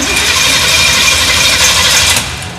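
A car engine on a Roadkill project cranks steadily without catching, a continuous churning starter whir with no firing bursts, close and loud, easing slightly near the end.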